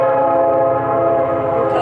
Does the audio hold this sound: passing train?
yes